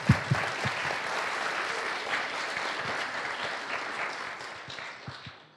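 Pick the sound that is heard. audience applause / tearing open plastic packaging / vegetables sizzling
audience applause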